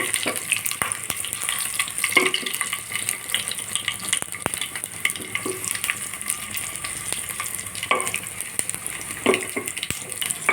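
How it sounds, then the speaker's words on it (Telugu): Garlic fries in oil in a pan for dal rasam, making a dense, continuous sizzle with scattered crackles and clicks, close and fairly loud throughout. "నెక్స్ట్ వెల్లుల్లిపాయలండి. కొంచెం బాగా వేగలుగుతాం."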